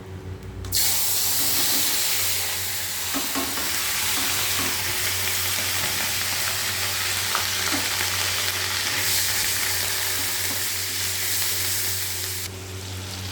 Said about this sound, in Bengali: পেঁয়াজ, আদা, রসুন একবারে দিয়ে দেব।